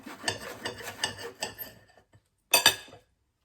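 A knife saws through a bread roll spread thinly with cream, making a run of quick rasping strokes and then one final short cut close up.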